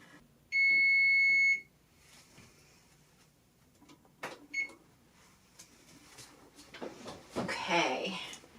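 A kitchen timer beeps once in a long steady tone while brownies bake from a chocolate muffin and cake mix, followed by quiet kitchen rustles and handling noises.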